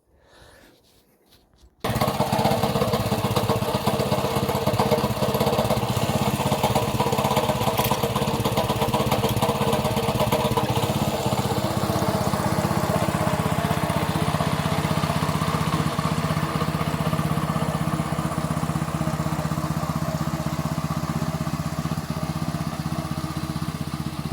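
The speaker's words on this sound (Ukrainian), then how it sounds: "буду підгортати вже дисковими окучниками мотоблоком Моторсіч" A Motor Sich walk-behind tractor engine runs while hilling soil with disc hillers. It roars in loudly after about two seconds and holds a steady, close, rattling drone to the end.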